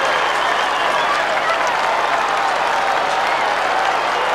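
Australian football crowd in the E.J. Whitten stand at the Western Oval cheering and applauding after a Western Bulldogs win, a dense, steady roar of clapping and shouts filling the whole stretch.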